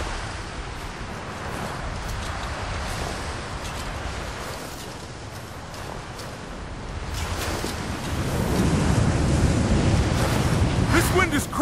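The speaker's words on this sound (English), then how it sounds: "This wind is crazy!" Strong mountain wind in the Rise of the Tomb Raider video game, a loud continuous gusting rush that builds toward the end, with a voice speaking over it.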